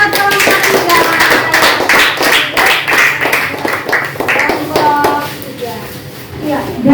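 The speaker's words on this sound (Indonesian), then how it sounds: "Oke, tepuk tangan buat kelompok 3." A classroom of children claps together for a student group, a dense, steady patter of many hands that runs the whole length and eases slightly toward the end.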